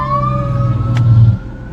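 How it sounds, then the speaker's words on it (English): Emergency vehicle sirens wail loudly and close by in traffic, a steady rising tone over a low engine rumble that cuts off near the end. "we got sirens all over us"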